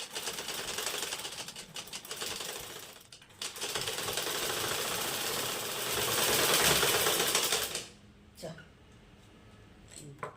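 A sewing machine stitches cloth for a Jagannath flag in fast, rattling bursts, loud and close, pausing briefly near the middle and stopping near the end, leaving a few faint clicks.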